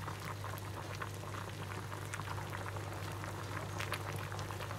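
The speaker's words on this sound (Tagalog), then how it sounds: "Kumukulo na po yung ating niluluto." Vegetable stew with mixed greens and taro leaves boils steadily in a pot, a continuous faint bubbling and popping under a low hum, with no talk.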